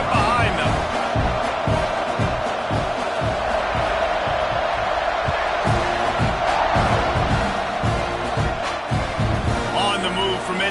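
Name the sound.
football stadium crowd cheering before kickoff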